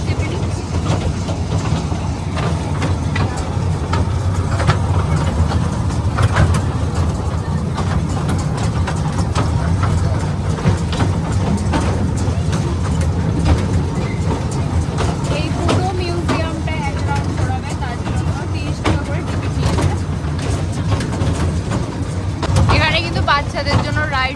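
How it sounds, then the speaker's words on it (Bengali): A toy train ride at the Howrah rail museum gives a steady low rumble of a running vehicle throughout, with someone talking over it and some scattered clatter near the end. "টয় ট্রেনে বসে পড়েছি"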